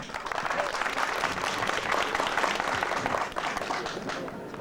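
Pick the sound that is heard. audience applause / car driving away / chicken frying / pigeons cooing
audience applause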